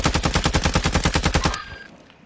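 Rapid automatic gunfire in a video game, a fast even burst of about fifteen loud shots over a second and a half, then a short ringing tail.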